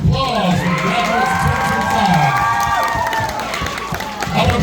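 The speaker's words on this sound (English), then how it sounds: "How about another round of applause for the graduates" A crowd at a graduation party cheers, whoops and shouts for the class of 2025 graduates, with children's voices high in the mix and some scattered clapping. Talk runs underneath, and the noise holds steady and loud throughout.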